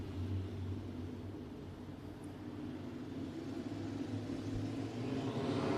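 Race cars at Barona Speedway in Lakeside, California, roll slowly down the back chute before an IMCA heat race start, giving a steady low engine rumble at middle distance with no voices.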